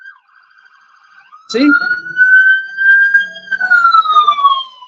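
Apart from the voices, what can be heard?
emergency vehicle siren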